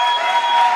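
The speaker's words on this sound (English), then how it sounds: "let us start this session with clapping hands for our matriculants of" A crowd applauding matriculants at a matric results release event, a dense, steady wash of clapping heard briefly and loudly.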